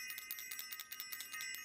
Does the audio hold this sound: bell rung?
yes